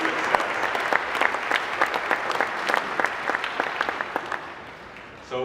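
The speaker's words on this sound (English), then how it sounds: "So please give yourselves a big round of applause" Crowd at a DubLi corporate presentation gives a long round of applause, dense clapping with sharper individual claps standing out, tapering toward the end.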